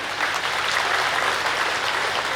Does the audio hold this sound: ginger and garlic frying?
no